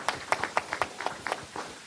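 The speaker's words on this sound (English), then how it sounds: "I believe you all deserve a round of applause." An audience at a seminar claps in a brief burst of applause, sparse and uneven hand claps, moderately close, fading after a couple of seconds.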